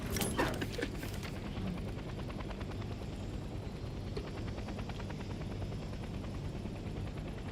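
A helicopter in the Hell Let Loose Vietnam video game thrums with a steady rotor chop and engine roar that stays close and constant, opening with a brief burst of other game noise.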